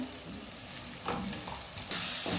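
Spiced sprouts and potato curry stirred in a pan, with a continuous close sizzle and frying hiss and the soft scrape of a spoon that grows louder toward the end.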